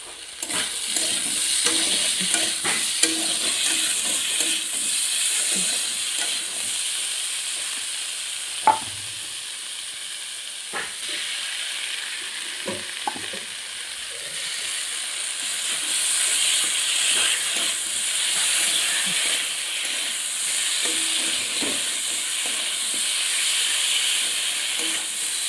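Ground spice paste and green chillies fry in a pan with a steady, loud sizzle and hiss, broken by occasional scrapes and clinks of stirring throughout, with no talking.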